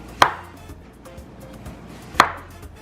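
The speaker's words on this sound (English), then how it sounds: "Slice them up nice and thin," A knife slices unripe plantains thin on a cutting board, giving two sharp, close chops about two seconds apart with softer slicing sounds between them in a quiet kitchen.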